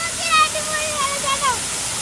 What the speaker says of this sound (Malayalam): അടിപൊളി വെള്ളച്ചാട്ടല്ലേ